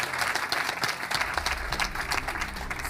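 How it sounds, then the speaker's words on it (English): An audience at a female success coach's event claps warmly, a dense steady round of applause that fills the whole moment without a break. "Give her a big round of applause"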